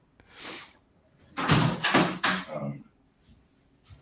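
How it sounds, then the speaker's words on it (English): A room door is shut with a few close, dull thumps and a rattle of the latch, preceded by a brief rustle, indoors with no talk. "I might have to close my door."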